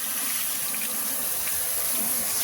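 Steady hiss of water spraying against a truck's underbody, rinsing away road salt and brown silt buildup; a continuous, close, even wash with no pauses.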